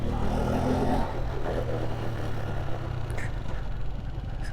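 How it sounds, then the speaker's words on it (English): A 1986 Honda CG125 motorcycle engine ticking over at idle, a steady low mid-pitched putter held evenly and close for a few seconds with no talking. "As you can see, it's idling nicely there now."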